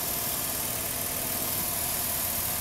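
A 3.7 liter V6 car engine idles in a steady, even drone with a faint mechanical vibration, unbroken and without voices.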